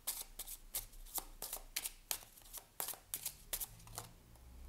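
A Kipper Fortune Telling card deck being shuffled, with a rapid run of crisp riffling card snaps in a steady, fairly regular rhythm, close and quiet, with no talk.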